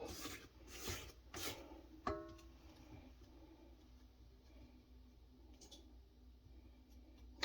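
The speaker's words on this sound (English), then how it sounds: "Scrape down your side." A spatula scrapes the sides of a bowl of caramel cake batter, giving a few quick rubbing strokes near the start and then a single sharp click. Faint background hiss fills the rest.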